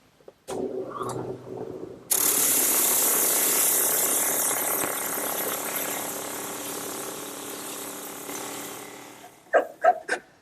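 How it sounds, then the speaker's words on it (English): A drum sander attachment smooths rough bandsaw cuts on wooden chair-table parts, starting with a few short bursts, then a loud, steady grinding whir for about seven seconds before it stops and a couple of brief knocks follow. "my drum sander attachment is the perfect tool to smooth out any of the roughness left by the bandsaw cuts"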